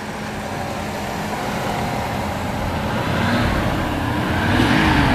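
A 1987 Mercedes-Benz 560SEC engine running quietly at idle, a soft steady hum with broadband hiss that swells slightly toward the end, heard close with no talking.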